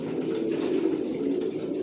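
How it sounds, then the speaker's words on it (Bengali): Racing pigeons of a single Johnson long-distance line coo together in a loft, a steady overlapping chorus of low throaty burbles running without pause at close range, with no voices. "আমার লফটে সব একই লাইনের কবুতর পালি,"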